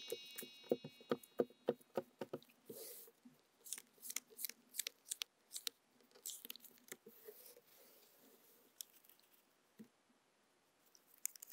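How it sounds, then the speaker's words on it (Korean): Tarot cards are handled and drawn, with a quick run of crisp, close snapping clicks at first that thin out into scattered, sparser taps and a quiet stretch. "2번 카드를 뽑아 볼게요."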